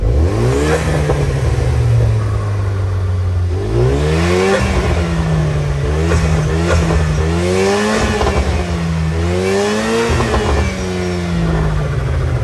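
A Vauxhall Astra J VXR engine revved repeatedly from idle, its loud, close note rising and falling in several successive blips over a steady rumble.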